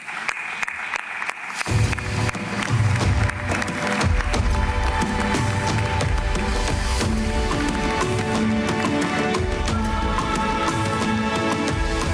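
An audience at a football confederation general assembly in Kinshasa starts clapping after a moment of quiet, and the applause swells into a loud, sustained round of many hands with a few cheers mixed in.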